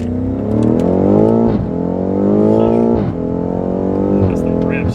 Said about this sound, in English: That's the rips.